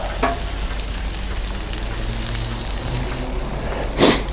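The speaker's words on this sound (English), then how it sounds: "I'm gonna start sauteing the veggies and getting them cooked up a little bit" Vegetables for chicken and broccoli fried rice sizzle steadily on a Blackstone griddle, a constant close frying hiss with a spatula clack near the end and no talking.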